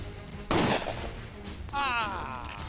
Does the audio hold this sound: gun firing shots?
yes